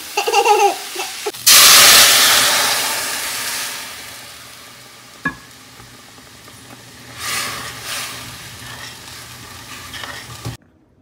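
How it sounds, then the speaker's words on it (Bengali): Vegetables fry and sizzle in a new iron wok, a loud burst of hissing as they hit the hot metal, then quieter crackling with occasional stirring scrapes. "এই লোহার কড়াইটা নতুন, তো ওই জন্য এই কড়াইয়ে এখন রান্না করব"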